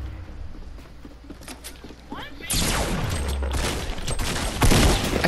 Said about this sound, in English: They're shooting at Kevy